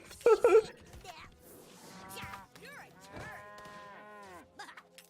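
Cows moo in a digital card game, several drawn-out lowing calls in a row after a brief loud burst, clear and fairly close with sparse background sounds.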